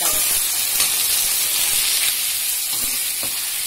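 Onions, garlic and tomatoes frying in a pan for pundu vengaya kulambu, a loud steady sizzle and hiss with light stirring scrapes throughout.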